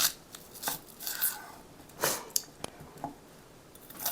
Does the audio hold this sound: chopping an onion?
yes